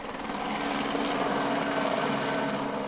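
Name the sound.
patrol helicopter flying over beaches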